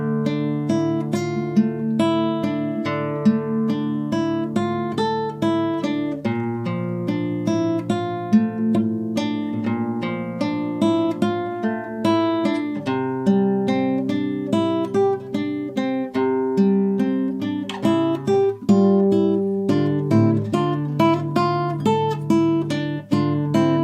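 Guitar plays the C section of a tune from The Witcher 3: Wild Hunt, a continuous melodic passage of plucked notes over ringing bass strings, steady and close, with no talking.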